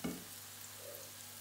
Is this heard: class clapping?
no